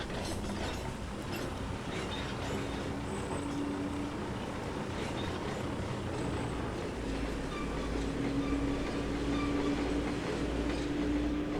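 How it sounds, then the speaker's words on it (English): In the Trainz 2022 game, a GE 45 Tonner locomotive with twin Cummins diesel engines rumbles along the Haven Beach Scenic Railroad, a low steady drone with rolling rail noise at moderate distance and no talking. "these have twin Cummins diesel engines, so it's gonna have a nice deep guttural sound"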